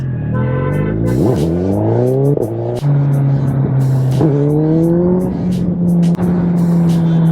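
A Suzuki Hayabusa Gen-3 motorcycle accelerates hard in power mode 1 with traction control off, its engine climbing loudly through rising gear pulls with brief shift dips, close up and with no talking.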